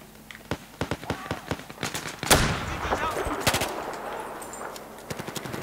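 Short, rapid bursts of automatic gunfire in the Battlefield 4 video game crackle close and loud, with one heavier blast midway and scattered shots trailing off behind a faint voice.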